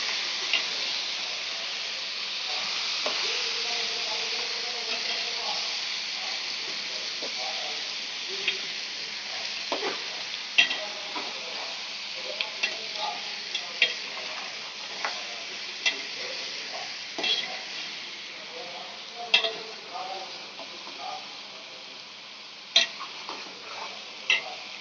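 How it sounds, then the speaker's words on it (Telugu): Chicken pieces frying in a pan while being stirred, a steady close sizzle with scattered clicks and scrapes of the spoon against the pan throughout, no voices. "ఇప్పుడు చికెన్ వేసేసుకున్నాము. చికెన్ వేసుకొని ఒకసారి తిప్పుకున్నాం."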